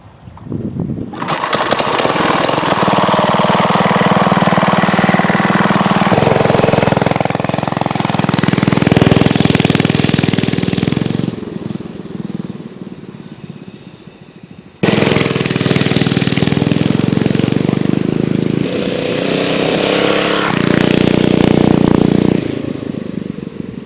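A Manco mini bike's small engine starting and running, a loud buzzing putter that revs up and down, drops briefly to a low idle and stalls, then starts again and revs on.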